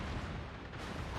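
Warship guns boom in a naval combat video game, a dense, continuous rumble of heavy gunfire filling the whole moment with no clear pauses.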